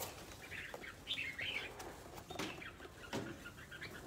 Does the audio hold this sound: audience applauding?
no